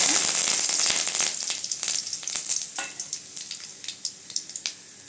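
Cinnamon and curry leaves hit hot oil with a loud, crackling sizzle that slowly calms into scattered pops and spits, with a spoon stirring close by and no talk.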